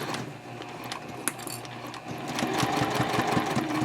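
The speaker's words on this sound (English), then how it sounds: "And then we'll sew to where the red clip is" Home sewing machine stitching a fabric seam on a triangle pouch, a steady close mechanical whirr that speeds up and grows louder in the second half, with a small click near the start.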